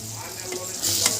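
Green chicken gravy cooking in oil in a pan gives a steady soft sizzle and bubbling, swelling louder toward the end.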